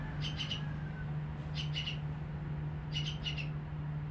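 Three short clusters of bright, high chirping notes from an oriental magpie-robin, spaced a second or so apart over a steady low hum.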